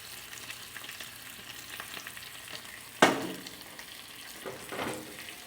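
Potatoes and bacon frying in a Dutch oven, a steady low sizzle with a sharp splash-like burst as more food hits the hot fat, followed by brief stirring scrapes.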